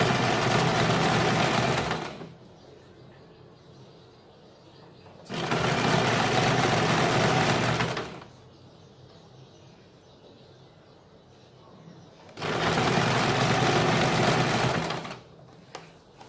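An electric sewing machine stitches the edge of a suit or kurti in three loud, steady whirring bursts of a few seconds each, separated by quieter pauses with faint background sounds.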